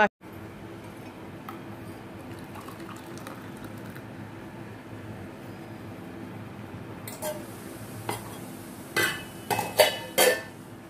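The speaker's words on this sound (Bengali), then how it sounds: "এখানে বাসনগুলো সব ভালো করে গুছিয়ে গুছিয়ে রেখে দিচ্ছি জিনিস জায়গায়" Washed metal kitchen utensils being stacked and put in place make a few sharp clinks and clanks near the end, after a long stretch of low, steady room noise.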